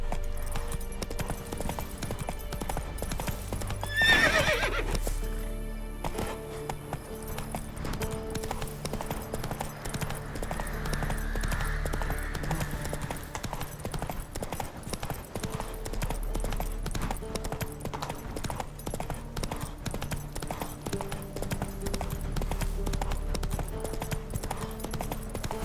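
A horse in The Witcher 3 gallops with a steady, continuous clip-clop of hooves and lets out a short neigh early on, heard alone over the game's ambient sound.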